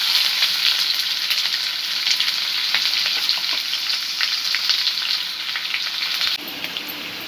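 Hot oil sizzles and crackles steadily up close as a spice tempering with sliced onion is prepared for kadhi pakoda, a continuous bright hiss with small pops and no voices.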